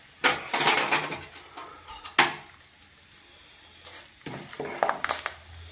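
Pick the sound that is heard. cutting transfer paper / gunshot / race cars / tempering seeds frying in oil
tempering seeds frying in oil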